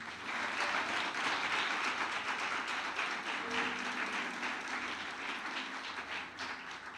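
A church congregation applauding, a dense, even wash of clapping that holds steady for several seconds at a moderate distance.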